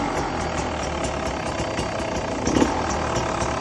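Beta 300RR two-stroke motorcycle engine mounted in a trike build, revving steadily and loudly at close range, with one slightly stronger surge near the end and no talking over it.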